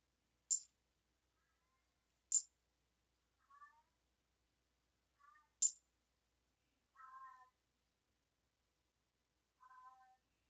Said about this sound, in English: would be my cat who howls at the water before she drinks it